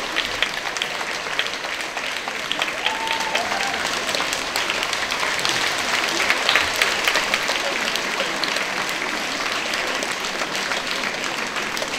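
A concert audience claps steadily for the conductor at a rock-hits orchestra show, dense, sustained applause filling the hall from start to finish.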